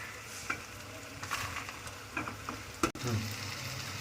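Masala for brinjal bharta is stirred and mixed in a pan, with a soft sizzle of oil beneath and scraping spoon strokes, plus a sharper clack near the end.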